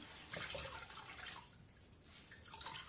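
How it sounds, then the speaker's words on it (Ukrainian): Rinse water being poured out of a basin after hand-washing laundry, a splashing gush that swells, eases, then surges again, close and alone without talk. "з першої води ось так сполоснула, зараз виливаю"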